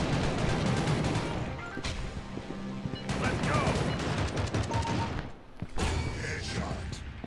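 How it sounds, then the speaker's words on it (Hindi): Game gunfire from a shooter, rapid bursts of shots up close with thuds and clatter, while someone talks over it. "A this gun is firing differently यार"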